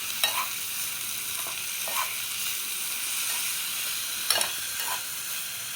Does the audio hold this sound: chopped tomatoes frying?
yes